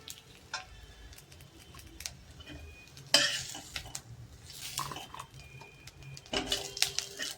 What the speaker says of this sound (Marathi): गॅस बंद करून आपल्याला एका दुसऱ्या प्लेटमध्ये काढून घ्यायचं आहे